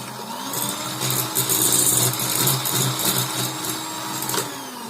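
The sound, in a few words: electric mixer beating eggs for cupcakes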